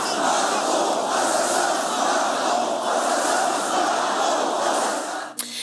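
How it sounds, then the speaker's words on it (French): A large protest crowd chants in unison against Macron, a loud, dense roar of voices sustained throughout before an abrupt cut near the end. "il n'avait pas entendu en fait la foule scander Macron assassin"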